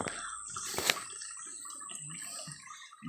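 River water splashing and trickling as people bathe, with soft drips and a sharper splash near the start, close and fairly quiet.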